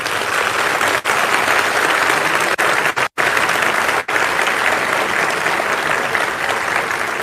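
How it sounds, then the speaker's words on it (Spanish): A church congregation gives a loud, sustained round of warm applause, dense clapping filling the room with a few tiny dips before carrying on strongly. "Démosle a estos hermanos un caluroso saludo a través de un fuerte aplauso"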